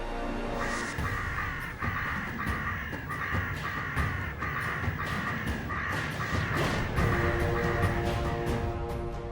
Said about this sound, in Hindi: कौवे तो आएंगे ही ना